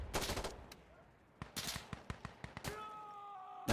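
Gunfire in the video game Insurgency Sandstorm: bursts of automatic fire up front, then a string of separate sharp shots, ending with a tonal ringing effect.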